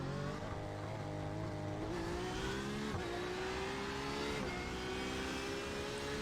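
A race car in the iRacing sim, on the IMSA round at Circuit de Barcelona-Catalunya, revs steadily and loudly through rising gear pulls, its engine note climbing and resetting at each shift.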